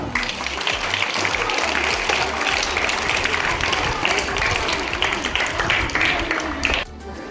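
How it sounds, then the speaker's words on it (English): Audience at a school yoga and music day celebration applauds the students after their yoga asanas, a steady wash of clapping that holds for about seven seconds before cutting off sharply near the end. "To the students who performed the asanas beautifully, give applause."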